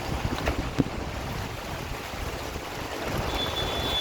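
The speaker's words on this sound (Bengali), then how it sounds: "বৃষ্টির সঙ্গে সঙ্গে বইছে ঝোড়ো হাওয়া উত্তাল দীঘার সমুদ্র" Gusty cyclone wind roars along the Digha seafront as rough surf churns, a steady broadband rush with a few buffeting bumps on the microphone and no voices.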